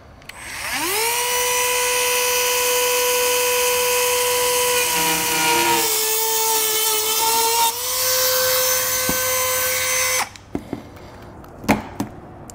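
A Dremel rotary tool spins up to a loud, high whine and cuts through thin bumper plastic for a trailer hitch on a 2023 Subaru Outback Wagon, the pitch dipping under load, then stops, followed by a few clicks and knocks.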